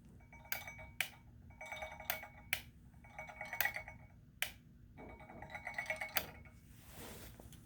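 Hydrochloric acid solution stirred in distilled water in a lab glass, giving a run of light clinks and taps of a stirring rod against the glass, some sharp, over a low steady hum.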